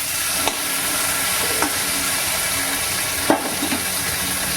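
Onions and tomatoes frying in a pan, a steady sizzle with occasional sharp scrapes and knocks as they are stirred, close and continuous with no talk.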